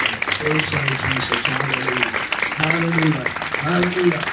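A congregation claps during a Good Friday church service, scattered applause running underneath a voice that speaks or sings throughout.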